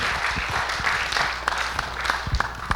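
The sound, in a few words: audience applause for Barry Kenyon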